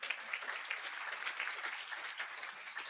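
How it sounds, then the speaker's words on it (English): A round of applause from an audience at an evening immigrant-support event: a sustained, evenly textured clatter of many hands, faint and somewhat distant, running without a break. "One more round of applause."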